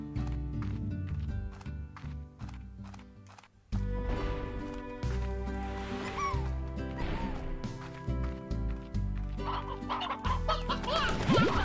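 Rooster clucks and squawks from the video game Slime Rancher repeat in irregular bursts over layered game sounds and music, fairly loud and close throughout.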